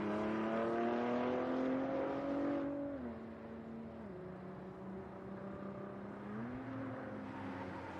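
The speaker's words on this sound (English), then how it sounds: "I want you to hear these cars as much as possible." Race cars, including Ford GTs, run at the Velocity Invitational track event, their engine tones rising and dipping as they pass at a distance, a steady moderate roar without talk.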